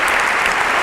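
Audience applause in a church or parish hall gathering, a dense continuous burst of many hands clapping together, loud and close, with no voices standing out.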